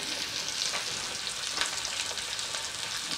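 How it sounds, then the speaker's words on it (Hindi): Four pieces of fish fry in a pan for a desi-style machhi fry. A steady, fine sizzle crackles close and even throughout, with no talking. "थोड़ी देर तक ये फ्राई होगा ठीक है, उसके बाद इसको पलट देंगे"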